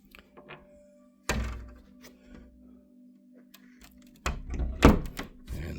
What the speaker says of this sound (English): So let me close the door here.